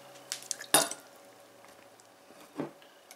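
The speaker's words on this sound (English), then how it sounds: "if you press the bottom, these things pop out really, really easily" Round ice cubes popping out of a silicone honeycomb ice cube tray, heard as two short, close soft cracks: a sharper one near the start and a duller one toward the end, with quiet handling noise between.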